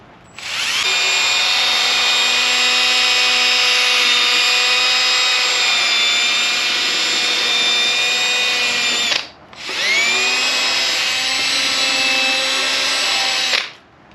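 A power sander with a fine 1200-grit wet sanding disc whines loudly and steadily on a Saab 9-3 headlight lens, cutting out briefly once before spinning back up and running again.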